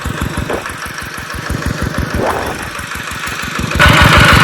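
A tractor engine chugs with a fast, even, throbbing pulse while plowing a rice field after a flood, loud and close, rising into a harsher roar near the end.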